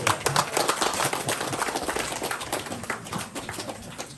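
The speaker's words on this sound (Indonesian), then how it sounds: "Beri tepukan kepada beliau" Audience applause for a newly promoted official at a Ramadan community gathering in Tambunan, dense steady clapping from a crowd throughout, fairly loud and continuous.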